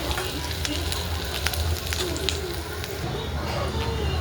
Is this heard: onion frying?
yes